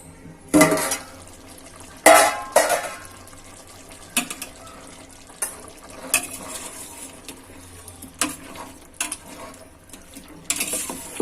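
Ambur chicken biryani in a cooking pot as its lid is lifted: loud metallic clanks and scrapes of lid and utensil against the pot, close up and irregularly spaced, with softer clatter and a light background hum between them.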